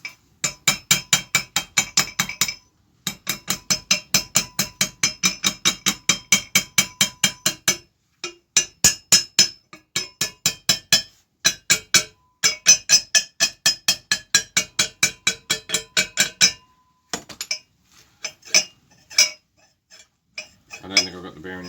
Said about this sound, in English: Do I dare hit it with a hammer just to see what it would do?